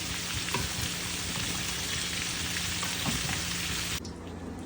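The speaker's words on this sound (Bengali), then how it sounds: "দেখো, প্রনগুলো কিন্তু বেশ সুন্দর ভাজা হচ্ছে" Prawns fry in hot oil for a mustard-poppy prawn dish, with a dense, even sizzle running close and continuous. It thins abruptly near the end.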